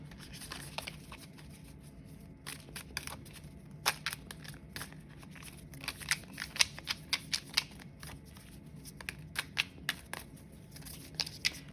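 Tarot cards being shuffled, a steady run of faint crisp flicks and riffles, some bursts denser than others, close up with no talk.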